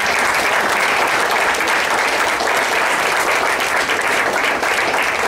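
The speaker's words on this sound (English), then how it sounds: "So I think they deserve a round of applause." Loud, sustained applause from a crowd at Hofstra softball commencement exercises, honoring four graduating student athletes; thick, continuous clapping fills the whole stretch at a steady level.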